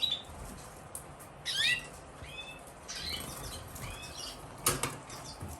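Small caged birds chirp in short, bright bursts, with a couple of quick wing flutters between calls, close and fairly faint over a quiet background.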